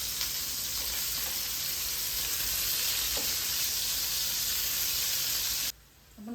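Fish pieces sizzle steadily in a hot frying pan after being turned over, a dense, even crackle that holds for several seconds before dropping off abruptly near the end.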